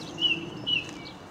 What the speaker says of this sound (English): And another song thrush behind me.